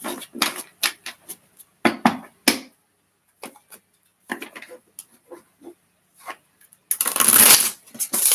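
A deck of tarot cards is shuffled by hand in bursts of quick riffling flicks, close and crisp, with short pauses between and a longer dense shuffle near the end.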